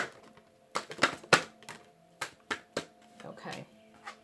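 Tarot cards are shuffled close by in a series of crisp, papery slaps and riffles, with irregular bursts and short pauses between them.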